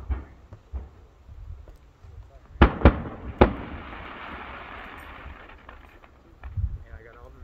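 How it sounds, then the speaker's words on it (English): A few sharp Fourth of July firework bangs go off in quick succession in Jonesport, Maine, followed by crackling, with people talking nearby before and after. "I thought he'd want to watch the fireworks."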